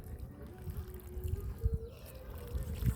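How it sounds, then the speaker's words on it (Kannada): Hot water poured from a vessel into flour for roti dough, a soft low trickle and splash running for a few seconds, fairly faint and close, with no talk over it. "ಬಿಸಿ ನೀರು ಹಾಕೋಬೇಕು."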